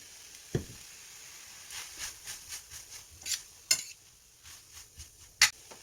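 Seaweed stems being stir-fried with soy sauce in a pan, a soft sizzle under irregular scrapes and taps of a utensil, with a few sharper clinks, close and fairly quiet.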